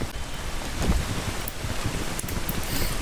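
Rain falling together with sleet outdoors, a steady broadband hiss of drops and icy pellets with gusts of wind blowing across the microphone throughout.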